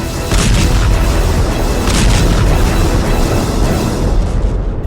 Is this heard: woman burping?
no